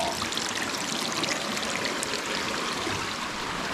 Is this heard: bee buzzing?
no